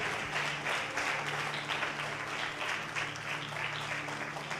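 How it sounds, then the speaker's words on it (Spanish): Steady applause from a church congregation fills the whole stretch, a dense, even clapping at moderate volume with no talking over it. "denle un fuerte aplauso al Señor"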